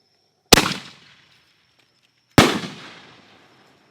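Two sharp, loud bangs about two seconds apart, each trailing off in a crackling decay, come from a consumer fireworks cake firing its final shells outdoors.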